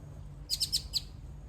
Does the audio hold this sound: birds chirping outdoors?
yes